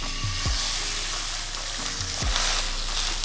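A beef entrecote steak sears in hot peanut oil, giving steady loud sizzling and frying crackle, with a couple of low knocks from the pan.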